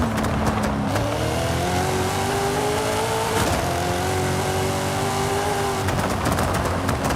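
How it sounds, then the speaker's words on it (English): A Nissan 350Z drag build with an LS crate engine, roll cage and big rear wing, driven in Forza Horizon 5: a loud, steady engine note climbing through the gears, with a brief dip midway. "Engine just sounds like a regular LS engine."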